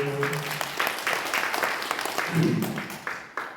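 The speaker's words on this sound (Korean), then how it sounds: "박수해 주세요" Brief applause from a congregation at a Korean Sunday church service, a short burst of clapping that mixes with a voice speaking over it.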